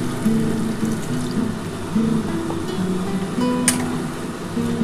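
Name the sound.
pouring water into frying fish curry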